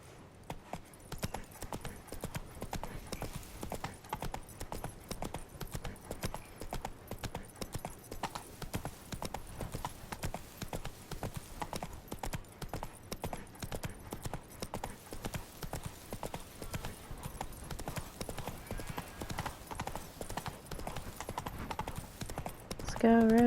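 Roach the horse gallops in The Witcher 3, hooves clip-clopping in a fast, steady rhythm throughout, with occasional talking over the hoofbeats.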